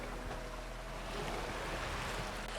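A sailboat under sail far offshore on the open ocean, with a soft, steady wash of water and wind rushing along the hull throughout, quiet and unbroken, with no voices.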